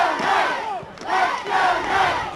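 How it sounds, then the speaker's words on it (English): A soccer match crowd of Middletown supporters cheering and roaring in swelling waves, loud and sustained, with no clear talk. "You can hear the Middletown crowd cheering"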